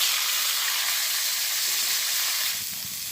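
Potatoes fry in hot oil with two bay leaves in a village kitchen, giving a loud, steady sizzle that softens slightly near the end.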